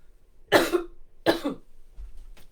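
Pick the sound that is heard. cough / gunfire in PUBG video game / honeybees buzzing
cough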